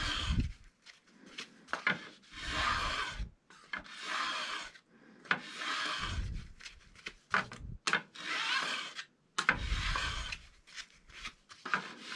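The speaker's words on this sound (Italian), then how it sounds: "utilizzare una lima fresa montata su una sorta di, di dima" A file held in a guide is drawn along a downhill ski's steel edge in repeated rhythmic strokes, each a dry rasping scrape lasting about a second, close-up with short pauses between passes and no talking.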